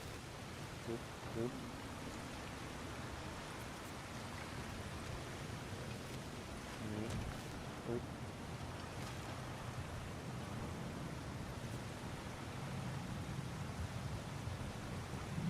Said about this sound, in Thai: Water's overflowing where we froze that trough.